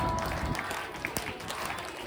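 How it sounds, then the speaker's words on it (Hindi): Audience clapping in a crowd at a Shrimad Bhagwat Katha religious gathering, hands keeping time with a Radha chant; dense, steady applause under a murmur of voices. "बजाओ राधा नाम की ताली"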